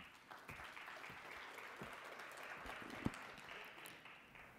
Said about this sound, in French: J'aurais jamais imaginé me faire applaudir à Mogador un jour